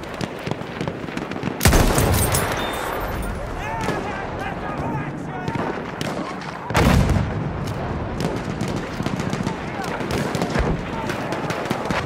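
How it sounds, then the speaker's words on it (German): Heavy artillery and gunfire in the World War I shooter Battlefield 1 on the St. Quentin Scar battlefield: two loud nearby blasts, one early and one near the middle, over steady crackling rifle and machine-gun fire, with voices shouting in the background. "Feindliche Artillerie gesichtet!"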